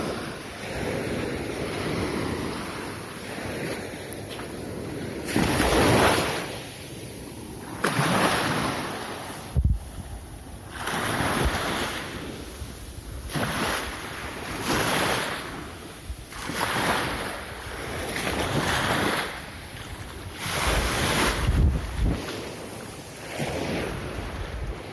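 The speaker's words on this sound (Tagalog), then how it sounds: "ito yung dagat." Sea waves at a beach cove resort in Quezon, with repeated surges of surf rolling in every few seconds under steady wind noise, fairly close and with no talking.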